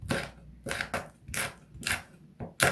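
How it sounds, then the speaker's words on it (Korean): A kitchen knife cuts fresh Cheongyang chili peppers diagonally on a cutting board, making about six crisp, separate chops in an uneven rhythm, close and clear with no talking. "그 다음에 청양고추 어슷썰기로 두개"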